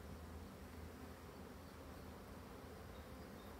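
A colony of agitated black honey bees fills the air with a dense, steady buzz, loud and close, unbroken by any voice.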